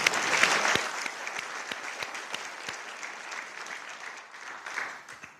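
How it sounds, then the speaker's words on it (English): An audience at a mayor's farewell address gives a round of applause, dense clapping that starts strong and slowly thins out, heard from some distance in a large hall. "That deserves another round of applause."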